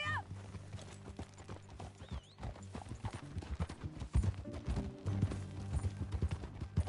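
Horse hooves clip-clop at a steady walking rhythm, close by, with a brief whinny and faint background sounds, from a PS4 video game.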